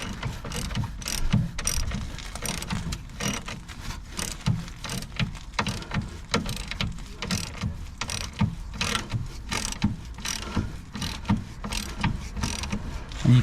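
A ratchet tightening subframe crossmember bolts gives steady rapid clicking strokes in a repeating rhythm, close and fairly loud, with no talk over it.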